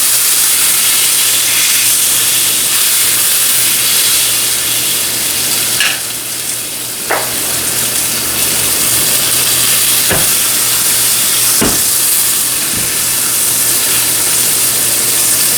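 A steak sizzles loudly and steadily in a skillet, with a constant hiss broken by a few sharp scraping or pressing knocks as it cooks.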